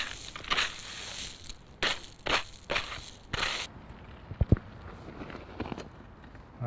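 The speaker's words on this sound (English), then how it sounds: "one barrow full of crushed stone" Crushed stone hardcore tipped from a wheelbarrow for a gravel path base, with a run of loud, gritty crunching bursts followed by a few scattered clunks and settling rattles.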